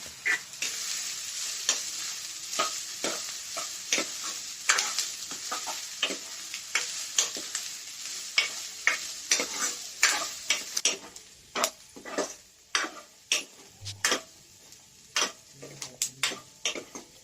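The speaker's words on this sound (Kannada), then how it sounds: "ಆಗ ಫ್ರೈ ಮಾಡಿಕೊಂಡು ಸ್ವಲ್ಪ ಚೆನ್ನಾಗಿ ಹುರಿದುಕೊಳ್ಳಬೇಕು" Okra (bendakaya) fries with onions in a home kitchen pan, giving a steady crackling sizzle punctuated by frequent sharp clicks and scrapes of stirring, growing more percussive toward the end.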